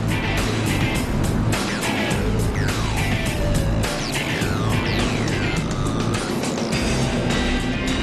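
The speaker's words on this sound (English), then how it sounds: "Eddie McKean there at the 10th row as the cars begin to wind around Infineon Raceway at Sears Point in Sonoma, California." Race cars roar past at Infineon Raceway at Sears Point in Sonoma, California, during a 2002 race, with loud overlapping engine whines sweeping up and down in pitch as the cars wind around the track.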